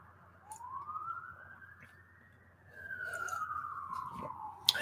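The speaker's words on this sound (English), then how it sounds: "There are definitely a lot more sirens here." A distant siren wails outside in a downtown area, rising and falling slowly, faint beneath a quiet background with a soft voice nearby.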